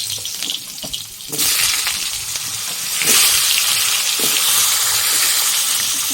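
Cut potatoes dropped into hot oil already seasoned with bay leaf, cumin and garlic set off a loud, broad sizzle that jumps up at about 1.3 seconds and swells again near 3 seconds, hissing steadily to the end with no talking.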